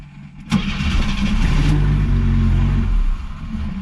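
An old classic car pulled from a barn cranks and catches, its engine firing with a sudden burst and running rough and loud up close for a few seconds before the revs drop away.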